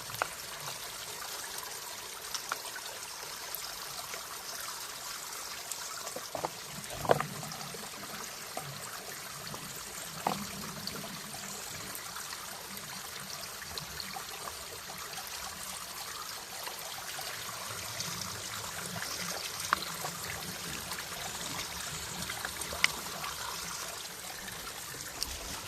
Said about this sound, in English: Ooh, that's some cold mountain water there.